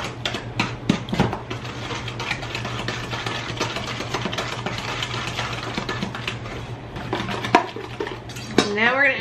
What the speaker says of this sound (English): Then we're gonna mix this all together, all of our wet ingredients and our sugars.